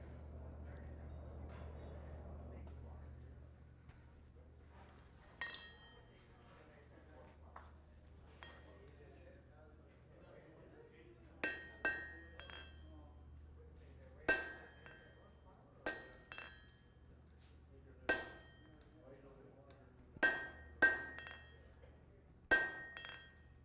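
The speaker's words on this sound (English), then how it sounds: "was thicker before I started hammering on it." A blacksmith strikes metal stock with a hammer at a smiths conference demonstration, giving a series of sharp, ringing blows that start sparse and come faster and louder toward the end over a low steady hum.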